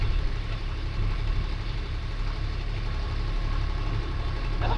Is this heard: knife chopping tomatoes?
no